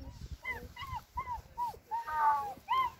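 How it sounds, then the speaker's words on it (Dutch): Several puppies whimper and yip in short rising squeaks, one cry after another with brief pauses, close by and clear against quiet outdoor rumble. "daar zijn de puppies."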